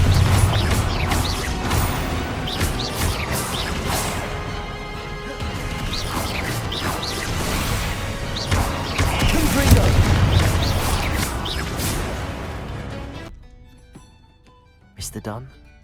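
A Confringo fire-blast spell bursts in the Hogwarts Legacy video game, a loud crashing explosion amid a dense, busy game mix of impacts and whooshes, with voices over the action before the noise drops away near the end.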